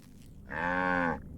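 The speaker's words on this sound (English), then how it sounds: "Cow!" A cow in the video game Katamari gives a single clear moo lasting just over half a second, loud and close, with no talk around it.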